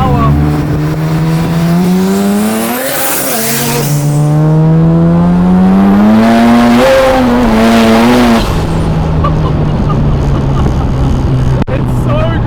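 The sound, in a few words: 730HP turbo 13B rotary Mazda RX7 accelerating and backfiring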